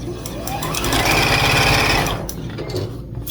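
A Juki DX7 sewing machine runs a straight stitch on quilt fabric, producing a loud, steady, rapid mechanical whir that slows and stops near the end.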